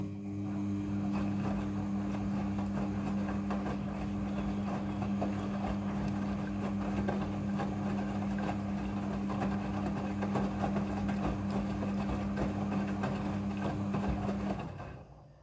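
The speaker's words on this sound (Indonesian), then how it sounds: "Pada proses pembilasan dengan air, mesin cuci akan mengatur jumlah kebutuhan air secara otomatis" A steady mechanical hum with a low drone and churning water runs continuously as a Midea front-loading washing machine rinses, then cuts off abruptly near the end.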